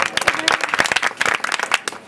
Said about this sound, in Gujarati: એમના તરફથી પાંચસો ને એક રૂપિયા મિત્રો જોરદાર તાળીઓથી વધારી દો